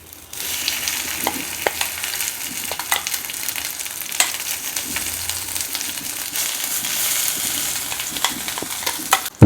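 Ground vallarai greens being sautéed in a pan for thuvaiyal, giving a steady bright sizzle close by with scattered stirring taps and scrapes, no speech.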